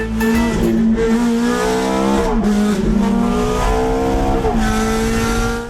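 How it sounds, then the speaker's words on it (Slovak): A yellow Italian sports car accelerates hard at speed, its engine note climbing steadily and dropping back through quick gear shifts, loud and close throughout. "Peťo auto nešetrí, športiak priam spieva a úžasne poslúcha plynový pedál."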